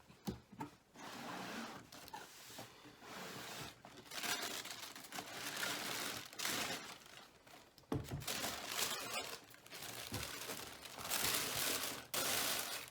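Close rustling and crinkling of wrapping paper as a Yeezy 500 Stone sneaker box is opened, with irregular crackles and brief tearing sounds, no speech.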